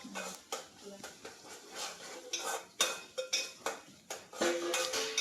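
A spoon scrapes and clinks against a cooking pot of gongura chicken as it is stirred, with sharp metallic knocks at an uneven rhythm while people talk nearby.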